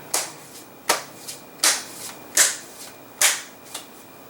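Playing cards shuffled by hand while seated on the floor, a run of sharp riffling bursts and snaps about every half second to second, close and crisp with quiet gaps between them.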